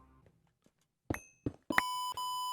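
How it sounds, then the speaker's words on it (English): After a few faint clicks, a loud electronic device sounds sharp tonal beeps: two short bursts, then a longer sustained beep, then another, all close and piercing in a quiet room. "that beeped. That like beeped so loud."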